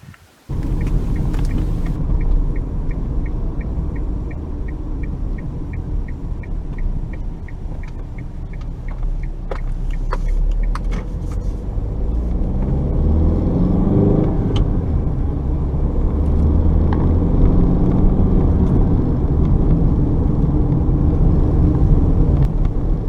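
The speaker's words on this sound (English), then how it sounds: "Quite a few bumpy patches in the road right now, and the Sportage seems to be absorbing them quite well actually." A 2014 Kia Sportage EX 1.7 CRDi drives over a bumpy road, heard from inside as a constant low road and engine rumble that slowly grows louder, with a ticking indicator early on and occasional knocks from the rough surface.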